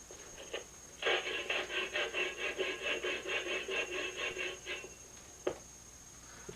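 A rapid series of rhythmic rasping strokes, about a dozen even pulses, comes as a 1/8 inch saw bit cuts into pepperoni. The strokes are set between quieter moments and end with a single sharp knock.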